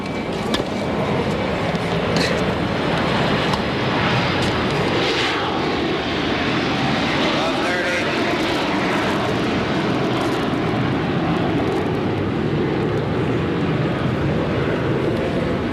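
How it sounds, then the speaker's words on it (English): A propeller or jet airliner passes over an outdoor tennis stadium during the 1982 US Open men's final, a steady, loud broadband roar holding through the whole stretch with no speech. "Plane flew over, the first one of the day."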